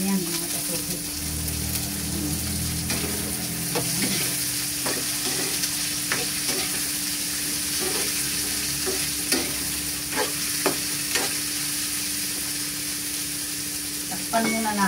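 Cabbage and sliced hotdog stir-fried in a pan, with a steady sizzle throughout and repeated scraping clicks of a utensil stirring and tossing the food at close range.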